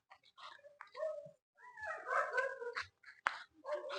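A dog at a family outing in Coorg gives a run of whimpers and short yelps in quick irregular bursts, fairly close and clear, with a sharp bark-like click near the end and no speech.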